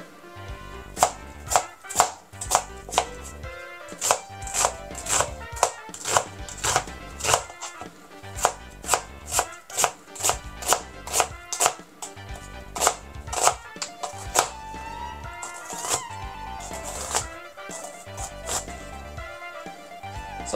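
Onion is sliced thinly with a knife on a cutting board, giving a quick, even run of crisp chops that lands close and clear at a steady rhythm for about twenty seconds, with a few short pauses.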